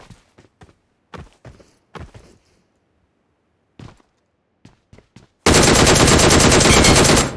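Gunfire in PUBG Mobile cracks out in scattered single shots and short bursts, then a loud, continuous stream of automatic fire fills the last couple of seconds.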